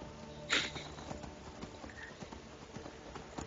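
Horse hooves clip-clopping as a rider travels in Skyrim, a steady rhythmic trot with one sharp louder accent early, heard alone over quiet game ambience.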